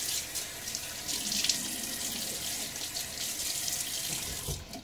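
Faucet water running steadily into a sink and splashing, close and continuous with no talk, as face is rinsed before a shave.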